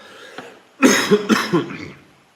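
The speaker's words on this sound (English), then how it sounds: "Forgive me for all the coughing." A few harsh, bursting coughs in quick succession, close and fairly loud, after a brief quiet moment, then fading out.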